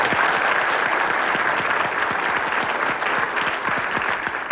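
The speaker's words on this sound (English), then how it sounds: "let's have a special round of applause for Margaret and her son, Bob." A studio audience on a 1991 ITV game show claps continuously, a dense, steady wash of applause that holds at a constant level from start to finish.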